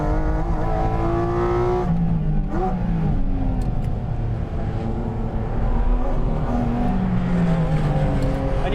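Porsche 718 Cayman GT4 RS engine accelerating hard through the gears, its loud revving note climbing repeatedly with brief drops at each shift, heard close over road roar without talk.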